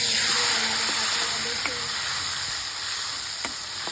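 Okra and potatoes drop into hot oil already seasoned with mustard seeds, cumin and asafoetida, giving a loud, steady close-up sizzle with a few sharp pops and spatters that eases slightly over a few seconds.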